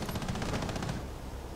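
Rapid burst of gunfire in a shooter video game, a dense run of shots over the first second that then gives way to lingering game noise.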